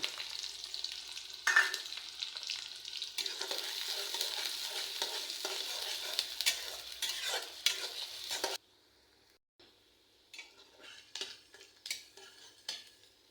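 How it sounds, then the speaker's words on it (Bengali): Onion and green chilli fry in hot oil, crackling and sizzling for several seconds while utensils scrape and stir. The sizzle then drops away, leaving quieter intermittent clinks and stirring. "তেলটা গরম হওয়ার পরে আমি ঝাল পেঁয়াজ দিয়ে দিলাম।"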